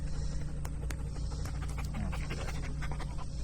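A dog pants steadily and quietly during an outdoor obedience training session, with rapid soft breaths repeating throughout against faint background noise.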